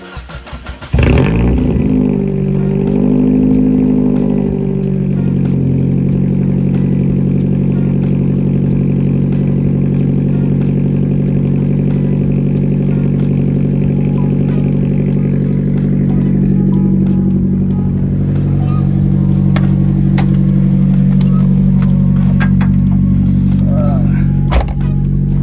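A 1999 Mazda Miata NB1 with its muffler deleted fires up on a cold morning, a sharp catch followed by a loud, raw, steady idle that drones close by for the whole stretch, with a slight change in pitch near the end.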